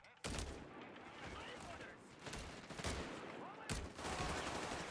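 Artillery battery fire in the World War II strategy game Company of Heroes 3, with heavy booming blasts and crackling gunfire layered over a dense battlefield roar, loud and close, with a few sharp louder impacts.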